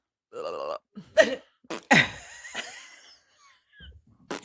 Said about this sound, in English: Stupidest fart sound ever.